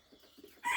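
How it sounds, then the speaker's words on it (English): Chickens clucking on a farm, a few soft low calls early on, then a louder, brighter burst of clucking near the end, with no talk. "Then we have chickens."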